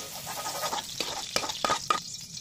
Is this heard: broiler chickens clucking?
no